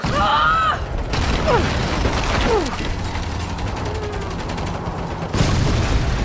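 Turret gunfire rattles in a Saints Row video game shootout: loud bursts of rapid mechanical firing with whizzing sweeps, a steady harsh barrage that drops briefly and then surges back at the end.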